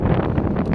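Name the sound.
wind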